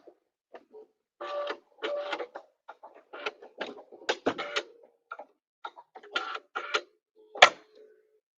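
Sewing machine stitching a decorative star stitch, short bursts of rapid mechanical whirring and ticking with brief pauses between them, close and fairly quiet.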